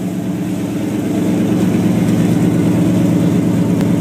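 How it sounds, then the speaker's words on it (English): A 1979 Ford monster truck engine idles through a new exhaust with a deep, steady rumble, loud and close, a slight rise in level partway through. "That's what the new exhaust sounds like on it."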